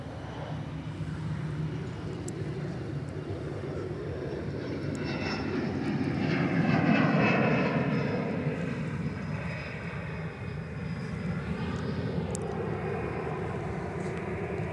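A Boeing 737-400 Classic freighter departing Sydney Airport at night, heard as a distant jet roar that swells to a peak midway and then slowly fades, with a faint steady background hum.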